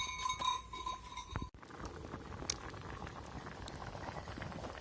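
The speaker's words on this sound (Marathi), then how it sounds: "तर आपली भाजी आता चांगली उकळली" A vegetable curry bubbles in a pot, a faint, soft simmering patter with small pops, following a brief clattering noise at the start.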